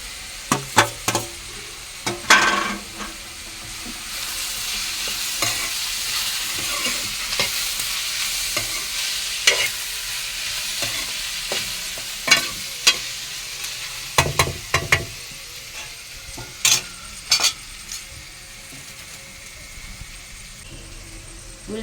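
Potatoes dropped into a pan of already-browned onions fry with a steady sizzle, broken by repeated sharp scrapes and clinks of stirring, moderately loud and close with no talking.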